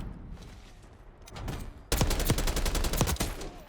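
AK74 rifle gunfire in the shooter Black Ops 6, with scattered distant shots followed by a loud, close burst of rapid automatic fire that continues in a dense rattling stream.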